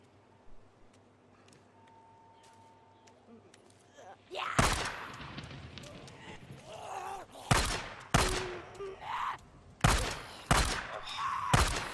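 Gunfire in the zombie-survival game Days Gone: a series of loud, sharp shots in uneven bursts and single cracks, with groans and thuds between them, over quieter ambience at the start.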